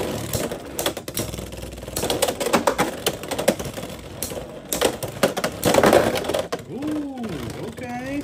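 Beyblade X Sphinx Cowl tops launched into a stadium, clattering and grinding together in a dense, continuous rattling battle for several seconds before a final skid and wobble, with voices talking over parts of it.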